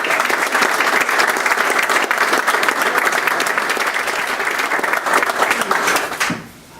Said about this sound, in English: I'd like to give Brian Longo and his family a round of applause for making this happen.